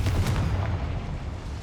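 A Confringo fire spell explodes in the Hogwarts Legacy video game, a single loud booming blast at the start that decays into a rumbling tail.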